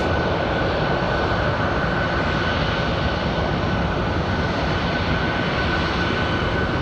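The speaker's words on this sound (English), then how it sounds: "So you hear the engine spooling up." Loud, continuous jet engine roar close by as the engine spools up at Raleigh-Durham International Airport, a dense steady rumble with a high whine running underneath, no voices.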